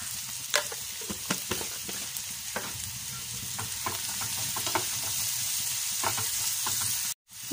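Onions with salt frying in a pan for an Irani pola chicken dish, a steady close sizzle with scattered scraping clicks as a spoon stirs them, ending in a sudden brief silence.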